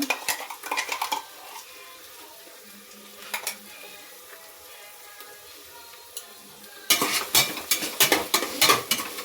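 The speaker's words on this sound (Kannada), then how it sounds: "ಈಗ ರುಬ್ಬಿಟ್ಟಿರೋ ಅಂಥ ಪುದೀನ, ಹಸಿಮೆಣಸಿನ್ಕಾಯಿ, ಮೆಂತ್ಯ ಸೊಪ್ಪು, ಕೊತ್ತಂಬರಿನ ಹಾಕೋಣ" Clanking pots and utensils with stirring and a light sizzle as ground mint, green chili, fenugreek leaf and coriander paste go into a pan for soya green biryani, with a busier burst of scraping clatter near the end.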